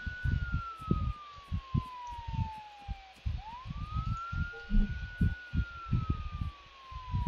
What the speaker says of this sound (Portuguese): Liga a sirene, hein?